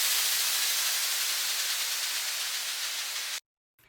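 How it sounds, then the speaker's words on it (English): A steady, bright hiss of white noise holds evenly for a few seconds, then cuts off abruptly into silence. "I've got some white noise that I'm using."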